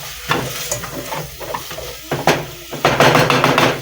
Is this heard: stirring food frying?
yes